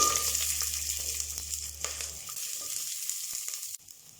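Onions sizzle and crackle steadily in hot oil in a pan, a dense frying hiss with a low hum fading out partway through.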